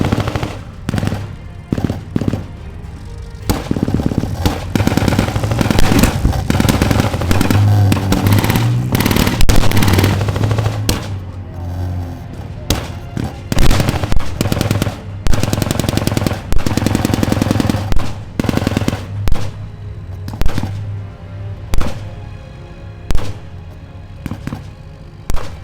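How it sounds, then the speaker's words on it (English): Heavy machine gun fire at a Gulf War tank battle reenactment: loud, rapid bursts of automatic fire, some long and sustained, others short and spaced, with other gunfire crackling throughout at close to medium range. "That kind of heavy machine gun can penetrate the light armor."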